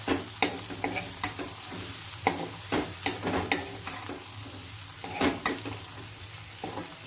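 Potato stir-fry is turned with a spatula in a pan, crisp scraping strokes recurring irregularly over a soft continuous sizzle, close and clear with no talking.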